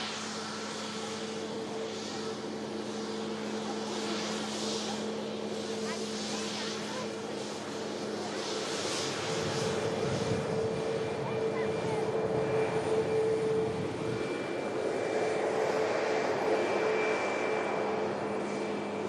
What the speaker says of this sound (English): this Ryanair taxis off is now lining up itself with runway 23 right